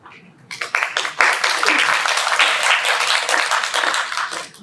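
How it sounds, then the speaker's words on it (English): Dense, loud applause from a theater audience at a community stage show, rising quickly and holding steady as a sustained wash of many hands clapping. "hold for applause"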